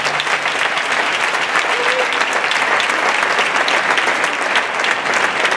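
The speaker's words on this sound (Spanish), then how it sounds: "Por favor, un fuerte aplauso." A dense, sustained wave of audience applause fills a gala hall at the Me Gustas Tú 2015 event in Montijo, Badajoz, steady and loud throughout.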